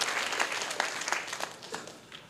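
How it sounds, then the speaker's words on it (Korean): An audience applauds a guest on stage with warm, dense clapping that swells briefly and then gradually thins out and fades. "우리 동군에게 우리 뜨거운 박수 부탁드리겠습니다"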